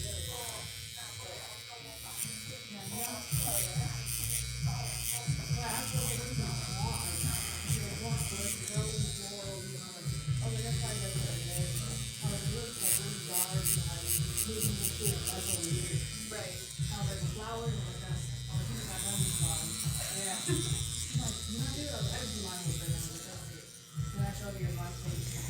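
FK Irons Spectra Flux tattoo machine running with a steady electric buzz throughout, fairly faint, while people talk over it.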